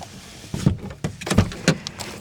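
A car door opens and shuts as the driver climbs out of a parked car, giving a few close, dull thuds and latch clicks over quiet surroundings, with no talking.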